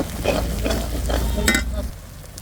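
Duck meat added to spice paste frying in oil, a dense close sizzle with repeated stirring scrapes and a sharper clatter, then the frying settles quieter.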